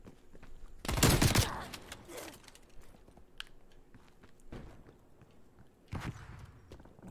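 Call of Duty: Black Ops Cold War gunfire comes in a few separate loud bursts, the strongest early on and another near the end, between quieter stretches of movement sounds.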